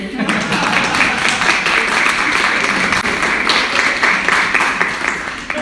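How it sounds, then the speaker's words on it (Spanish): Applause from an audience at a poetry reading, a sustained dense patter of clapping that fills the space evenly for several seconds, with murmuring voices blended underneath. "Bueno, como Catherine Ibargüen, yo pido aplausos."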